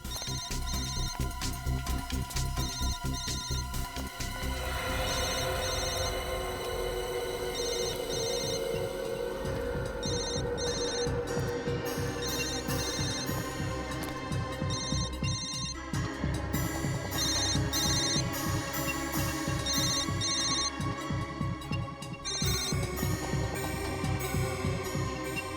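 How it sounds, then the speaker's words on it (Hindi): A mobile phone rings steadily for the whole stretch, a repeating electronic ringtone melody over a throbbing low background, loud and continuous, with no talk. "Sir bell."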